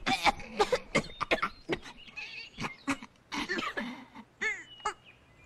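Cartoon boys cough repeatedly in irregular bursts, some harsh and throaty, with a few squeaky vocal yelps mixed in, moderately loud and close in a school scene.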